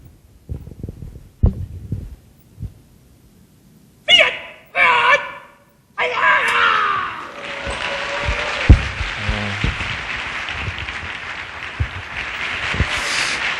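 Audience applause after a martial-arts bare-hand strike breaking a tile at a dojo seminar, following a few sharp thuds and whooshing bursts; the clapping swells in and holds as a steady, moderately loud wash to the end.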